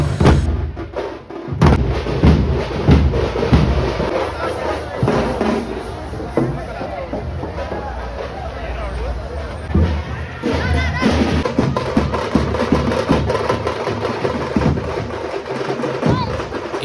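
Firecrackers go off at a Vinayaka Chavithi street celebration in Marathahalli, with sharp bangs and pops scattered through a loud, continuous din of crowd noise and shouting voices.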